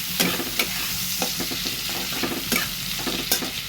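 Potatoes being stirred into a sizzling prawn curry, with a steady frying hiss broken by several sharp scrapes and clacks of a spatula against the pan.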